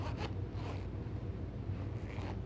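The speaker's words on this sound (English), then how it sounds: "testing of the zipper. Zipper works." A zipper is run during a test, giving a continuous close rasping scrape that lasts a couple of seconds at a fairly quiet, even level.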